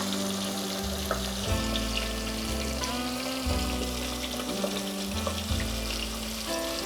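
Garlic softening in melted butter in a pan over low heat gives a steady, gentle sizzle, with background music playing throughout.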